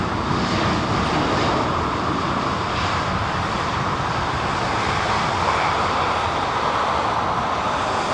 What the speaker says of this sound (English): now that is derated, as in idle thrust. That is idle thrust.